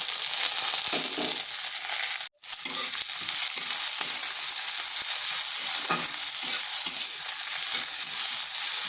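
Sliced onion fries with garlic in a hot pan, a loud, continuous close-up sizzle with occasional stirring scrapes and one brief sudden gap in the sound, no voices.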